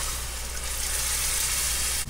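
Macaroni sauce in a hot pan sizzles loudly and steadily as two cups of water are poured in, with a strong bubbling hiss and a sharp break at the end.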